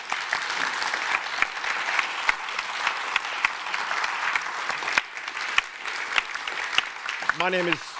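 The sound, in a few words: audience applause for a panel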